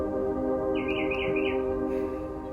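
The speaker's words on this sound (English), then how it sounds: "I love this bird is 10 feet away from me just watching, singing." A small bird sings close by outdoors, about ten feet away, one bright warbling phrase over a steady low hum.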